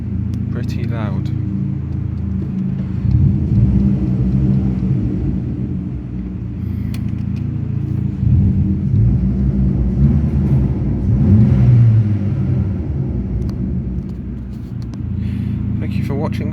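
A Ford Fiesta Mk6 fitted with a Sportex exhaust runs in an underground car park, its deep engine rumble droning steadily with a few swells of revving, echoing close by for the whole stretch.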